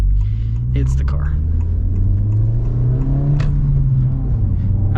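A 2025 Honda Civic Si engine revs and blips on its own, its mid-pitched drone rising and falling steadily at close range, with faint voices murmuring underneath.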